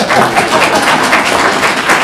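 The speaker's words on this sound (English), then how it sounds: "Thank you for that warm round of applause." Warm round of applause from a seated audience welcoming a speaker at a talk, steady mid-level clapping from many hands with no voices on top.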